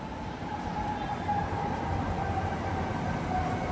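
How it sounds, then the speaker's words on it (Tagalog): An MRT metro train rumbles steadily nearby, a low sustained roar with a faint high whine over it. "Ayan na po ang MRT train."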